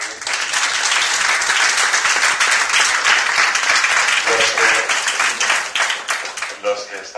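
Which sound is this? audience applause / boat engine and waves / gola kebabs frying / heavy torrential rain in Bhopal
audience applause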